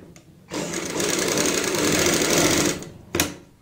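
A sewing machine stitches a kurti neck design in a short burst of fast, buzzing needle strokes that starts suddenly, runs about two seconds, then halts, followed by a brief second spurt.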